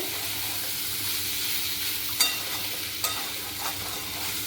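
Elephant foot yam curry sautéing in a pan gives a soft, even sizzle with a couple of sharp spatula clicks against the pan partway through, close by, with no talking.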